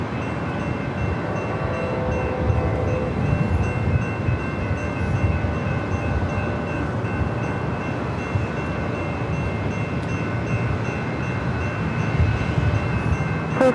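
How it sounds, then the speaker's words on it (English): A Surfliner passenger train rolls in from Oceanside, a steady, continuous rumble of wheels on rails held at an even level throughout, heard from a moderate distance with faint wind. "Looks like it's another surf liner coming from Oceanside."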